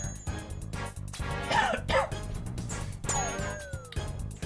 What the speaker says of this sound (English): I'm coughing a ton